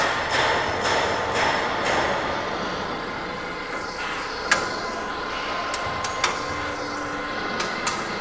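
A stainless steel square tube roll forming machine runs in a workshop, giving a steady mechanical drone with scattered metallic clicks and a few sharp knocks, fairly loud throughout.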